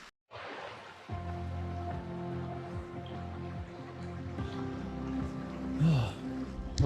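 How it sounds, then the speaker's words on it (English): Steady rain patters on a tent in a forest, with soft irregular drips and taps scattered throughout, fairly quiet and close. "Gonna fall asleep to the sound of the rain and hope that it stops before morning."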